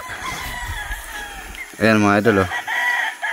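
Roosters at a gamefarm range area, one crowing clearly nearby for about a second over outdoor background noise, with someone talking around it.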